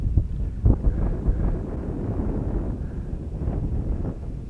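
Strong wind buffets the microphone during a windy test flight of a cheap foam beginner RC plane, a loud continuous rumble with gusty swells and no talk.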